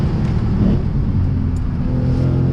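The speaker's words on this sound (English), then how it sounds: "I just love the sound of this engine when it goes. When it downshifts" A Lexus RC F engine roars steadily under load, rising and dropping in revs as it works through gears and downshifts, loud and close throughout.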